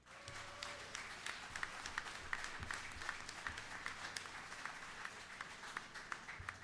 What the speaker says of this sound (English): I want to ask everybody to give a round of applause